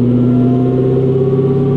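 A supercharged V8 Corvette ZR1 with about 800 hp rumbles steadily and loudly up close as it pulls away, a smooth droning tone with no talking.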